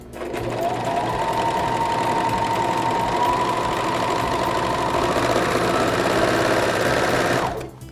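A serger sews a rolled hem on a fabric napkin, giving a steady, fast mechanical whir that runs close and loud for about seven seconds, then stops abruptly as the stitching approaches a corner.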